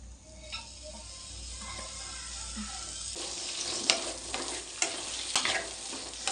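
Curry leaves hit hot oil in a pan on a gas stove, giving a soft, steady sizzle with sharper crackles and pops that build in the second half as the leaves are stirred.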